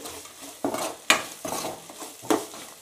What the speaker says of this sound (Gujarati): અહીંયા મેં 2 ડુંગળી લીધેલી છે તેને પણ આપણે તેલમાં એડ કરી દઈશું। હવે આપણે આને બરાબર મિક્સ કરી દઈએ